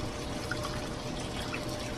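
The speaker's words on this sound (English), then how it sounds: "Look at that bubbling. It's like a stew." Dry ice in water bubbling steadily, with a dense, continuous fizzing and gurgling close by, unbroken by speech.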